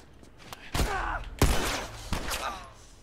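A few sharp gunshots ring out in The Last of Us Remastered, spaced irregularly over a couple of seconds with short echoing tails.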